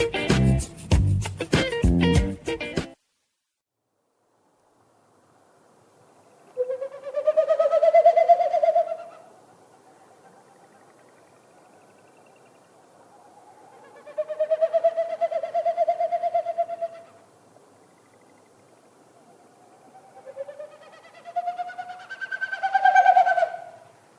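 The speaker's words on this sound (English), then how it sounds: "What you heard is a Wilson snipe doing its territorial sound, but it's made with its wings and its tail." A Wilson's snipe's winnowing display, a hollow, tremulous hooting made by air through its wings and tail during flight, comes in three separate rising and fading passes several seconds apart, moderately loud against a quiet background.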